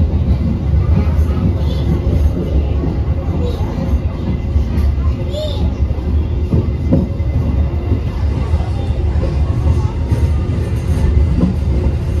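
Commuter train running on rails as it enters Sidoarjo station, a steady loud rumble throughout with faint rhythmic rail clatter and some background speech.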